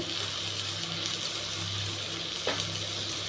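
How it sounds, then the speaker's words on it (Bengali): Tomatoes tip into hot oil in a pan for a Bengali tengra fish and aubergine curry, giving a steady, close, hissing sizzle that runs throughout, with a brief scrape of stirring partway through. "এবার এতে টমেটোটা দিয়ে দিচ্ছি"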